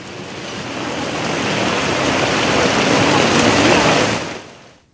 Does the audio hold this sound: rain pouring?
yes